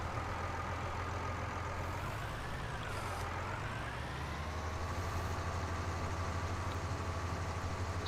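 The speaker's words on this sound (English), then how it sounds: "So I've got the tractor with a stump grinder here." A tractor engine with a stump grinder drones steadily in the Farming Simulator 19 video game, a continuous low idling rumble with a slight pitch shift midway and no talk.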